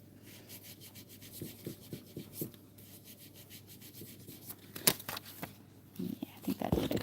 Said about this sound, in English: I'm going to try to burnish it and press it out that way a little